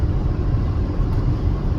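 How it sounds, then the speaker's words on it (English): Steady low road rumble inside a moving van, a continuous dense roar with no breaks, fairly loud and without voices. "sorry about that road noise"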